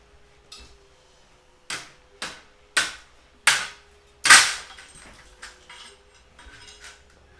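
About half a dozen sharp hammer blows ring out at a steady pace, each ringing briefly, followed by a few lighter taps.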